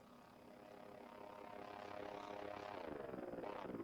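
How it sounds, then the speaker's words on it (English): The midnight drone in the video game Voices of the Void flies in with a faint, rising propeller-like whir that grows steadily louder and develops a rapid fluttering pulse as it nears. "There's the midnight drone."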